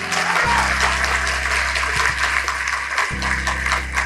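Audience applause at a YOUTAG Diamond recognition event, a dense wash of clapping across the hall, steady and loud, with a low sustained hum underneath.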